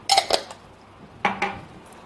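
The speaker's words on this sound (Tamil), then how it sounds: "நல்ல மாவோட கலந்து விட்டுருணுங்க." A spoon stirring salt into idli-based paniyaram batter in a bowl, making two brief clusters of bright metallic clinks and scrapes against the bowl, with quiet between them and no voices.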